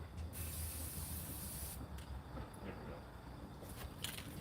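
A spray paint can hisses in a steady, continuous stream at an art session, fairly faint and close, with brief pauses where the nozzle is released before spraying resumes.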